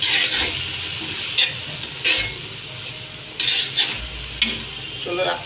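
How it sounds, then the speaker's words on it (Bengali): Masoor dal with meat spice and salt sizzles in a pan while a spoon scrapes and stirs it in several distinct strokes, clinking against the metal over a continuous frying hiss. "একটু ভুনে নিচ্ছি।"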